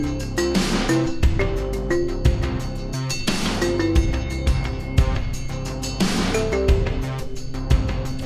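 A Massive X synth patch called Woozle plays a repeating polyrhythmic melody over a dense rhythmic bed from an ARP 2600, looping a four-bar phrase with busy, layered tones and periodic bright swells, moderately loud and free of speech.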